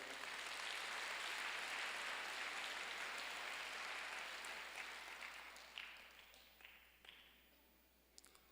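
A crowd claps in a dense burst of applause that gradually thins out and fades to a few scattered claps.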